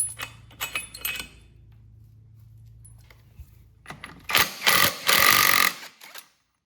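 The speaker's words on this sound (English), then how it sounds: "Go ahead and pull these clutches off." Removing clutches from the engine of a used ATV with tools, a whirring mechanical buzz and metallic clinks, then several loud, close bursts of grinding tool noise near the end.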